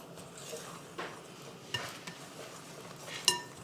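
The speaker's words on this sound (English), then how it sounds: "make sure you mix it up well to make sure everything is" A utensil stirring chicken sandwich ingredients together in a bowl, soft scraping swirls with a few sharper clinks against the bowl, close and fairly quiet.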